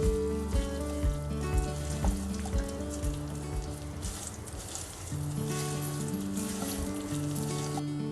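Pieces of alu vadi drop into a hot pan with sesame seeds, curry leaves and mustard seeds, giving a continuous close sizzle over steady tonal background music.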